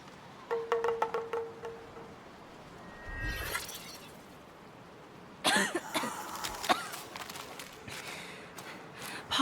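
A character coughs in the video game Black Myth: Wukong, with rough coughs and breathy gasps over steady ambient game noise, plus scattered clattering and impact sounds.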